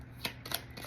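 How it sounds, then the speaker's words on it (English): A deck of tarot cards is shuffled with two quick, soft riffling bursts, close and quiet in an otherwise still room. "One more shuffle."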